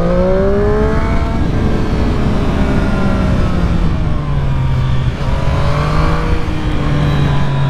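A 2020 Triumph Street Triple 765 RS motorcycle engine hums loud and steady while riding through a stretch of curves, its pitch sweeping up and down with each throttle change, with no voices present.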